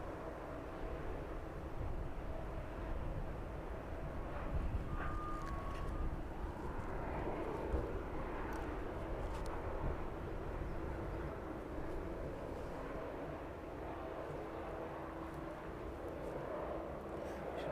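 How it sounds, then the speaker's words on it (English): A Maersk Boeing 767 passes overhead near East Midlands Airport at Kegworth, a faint, distant jet rumble held low and steady beneath broadband background noise throughout. "that Maersk 767 is making its way overhead Kegworth now"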